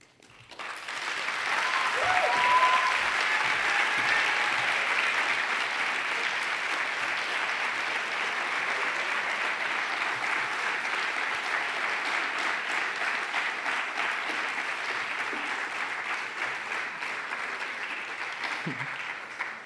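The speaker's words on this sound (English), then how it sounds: "Let's give a round of applause for her." An audience claps steadily after a speech, a dense, even wash of applause sustained for nearly twenty seconds, moderately distant and tapering slightly toward the end.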